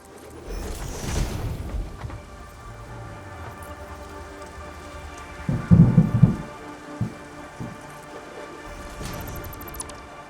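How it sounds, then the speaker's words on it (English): Thunder and rain from a storm in the game Satisfactory: a steady wash of rain under a distant rumble, which builds to a louder crackling peal near the middle before settling back into rainfall. No one speaks. "It's definitely thundering out there."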